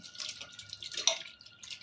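Water pours and splashes in short, uneven bursts onto tomatoes being squeezed by hand, with trickles and drips close by and no voices.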